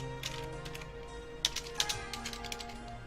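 Keys clatter on a QWERTY computer keyboard, a quick run of close, crisp taps in irregular bursts with a couple of louder strikes, no voices.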